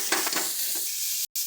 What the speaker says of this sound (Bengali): ভালো করে ওটাকে মশলার সাথে মিশিয়ে নেব।